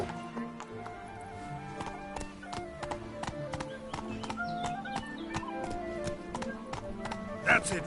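Roach, a horse in The Witcher 3 video game, trots with steady clip-clop hoofbeats under game music and chatter from a voice, ending with a brief louder burst.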